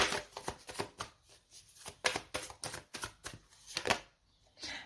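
Tarot cards are drawn and laid down during a reading, giving a string of close, crisp papery flicks and soft slaps with short pauses between.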